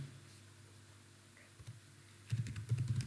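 Typing on a computer keyboard while writing Excel VBA code: a quiet room, then a short run of soft, close key clicks near the end with no speech.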